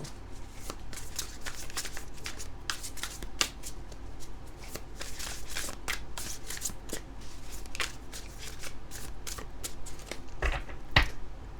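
A thick Light Seers Tarot deck being shuffled by hand, repeated riffling and slapping bursts of cards over several seconds, close and crisp, with a sharp clack near the end.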